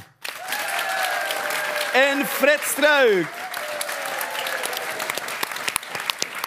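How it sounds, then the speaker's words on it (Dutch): Dutch studio audience applauding guests Baptist and Fred on a talk show, sustained clapping running throughout while a host speaks over it and excited voices whoop in the middle. "Mag een groot applaus ook, dames en heren, voor Baptiste Baap"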